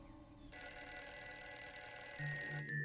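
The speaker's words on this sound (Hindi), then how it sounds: "मुझे लैंडलाइन पे फोन आ रहा है।" A landline telephone rings steadily after a short quiet moment, a continuous bright ringing tone that fills the rest of the clip at moderate level with no talking.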